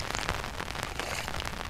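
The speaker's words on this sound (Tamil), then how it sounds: "மழை சீசனில் கூட இவ்வளோ மழை பெய்யல, இந்த டைமில் இவ்வளோ மழை" Heavy rain pours down in a dense, steady hiss and patter on surfaces, loud and unbroken throughout with no one speaking.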